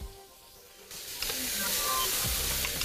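Onions and garlic hitting a hot pan, a faint murmur that jumps into a loud, steady hissing sizzle partway through and keeps going, close and alone.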